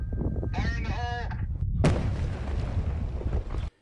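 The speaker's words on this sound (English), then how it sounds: "Impressive work by crews blasting a rock slide along the 78 near Ramona" A rock-blasting charge clears boulders from a rock slide on Highway 78 near Ramona, San Diego: a brief voice, then a sudden sharp blast followed by a sustained rumbling roar of debris that cuts off abruptly.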